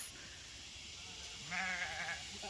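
Sheep bleating in a fenced pasture during rotational grazing, a single wavering bleat rising from steady outdoor background noise midway through, moderately close.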